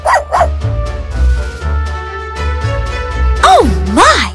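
A dog gives a quick run of high, yappy barks and whimpering yips close by, with a couple of short rising whines at the end.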